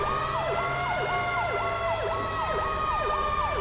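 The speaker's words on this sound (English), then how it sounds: "We're using American Siren Pack on LSPDFR." A fire engine siren from an American siren pack mod in GTA 5 LSPDFR wails in a fast, repeating yelp over a low rumbling engine, loud and steady throughout with no voices.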